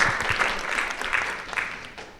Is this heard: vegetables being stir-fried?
no